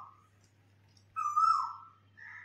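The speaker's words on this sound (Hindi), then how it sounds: "तो सुने कि कोयल की आवाज" An Asian koel calls once nearby at a home where food is being cooked, a clear rising whistled note followed by a shorter fainter repeat, over a low steady hum and no speech.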